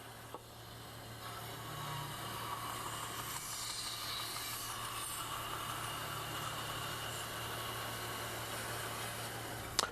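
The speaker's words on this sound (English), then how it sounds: "I've taken an awful lot of wood out with the bandsaw" Bandsaw cutting wood in a woodworking shop, a quiet steady motor hum with a soft rasping cut running throughout, faint and continuous, no speech.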